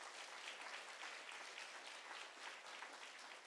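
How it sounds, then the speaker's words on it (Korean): A church congregation at a Christmas service applauds together, a faint but continuous, even patter of many hands heard from a distance, lasting a few seconds without speech. "우리 박수로 하나님께 영광 드리겠습니다."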